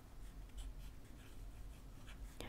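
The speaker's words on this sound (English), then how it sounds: "So let me write it down." A pen scratches across paper in a quiet room while trigonometry notes on the laws of sine and cosine are written out, soft continuous scribbling with a few sharper strokes near the end.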